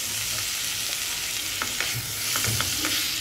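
Onion chutney cooks in a pan while being stirred, a soft continuous sizzle with light scraping strokes of the spoon, close by and fairly quiet, no talking.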